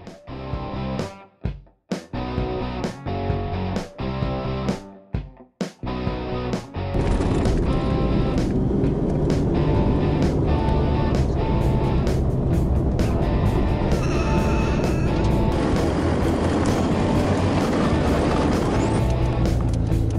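A car rattling and jolting over a rough, bumpy dirt road toward Steep Point near Shark Bay, Australia, with sharp clunks early on and then a constant loud engine and road roar.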